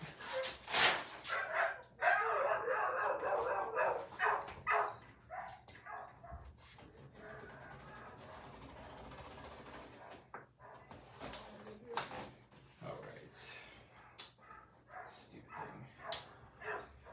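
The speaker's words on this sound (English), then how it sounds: "Dogs are going nuts outside." Several dogs bark and yip outdoors in repeated bursts at moderate distance, running under a steady low hum and some faint background noise.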